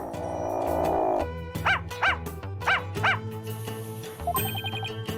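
Shadow, a dog in the Ace Attorney: Spirit of Justice video game, gives a quick series of about four yipping barks over steady game music, loud and close.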